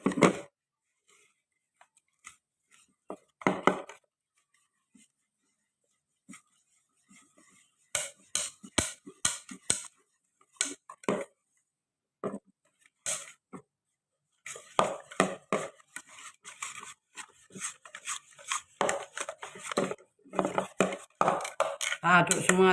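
Cooking mixture being stirred in a bowl by hand without a mixer, giving scattered clinks and scraping taps of utensil against the bowl in irregular bursts separated by quiet pauses.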